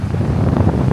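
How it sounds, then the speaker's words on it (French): Wind buffets the microphone on a grey, overcast beach in France, giving a loud, steady, low roar across the whole brief moment with no voices. "il y a du vent"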